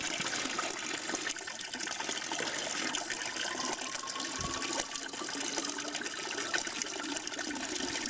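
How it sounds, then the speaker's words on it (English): Water rushing steadily from an outdoor tap at a bothy on the Scottish National Trail, a continuous gushing flow heard close by with no pauses. "this is the tap here at the bothy, and you can get your water from here."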